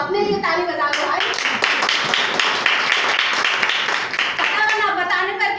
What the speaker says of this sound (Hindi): अपने लिए ताली बजा लो भाई